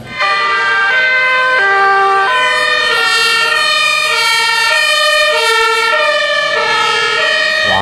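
A toy fire truck blares its electronic siren, a loud, close, steady wail alternating between stepped high and low tones without pause, heard alone with no talking.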